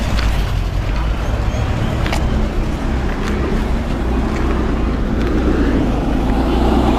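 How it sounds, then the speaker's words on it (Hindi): A medical oxygen vehicle passes on a road at the sealed Badarpur border, its engine and tyre noise a steady roar amid traffic, with a few sharp clicks over it. "मेडिकल ऑक्सीजन की गाड़ी है जो कि SSL सर्विस में आती है"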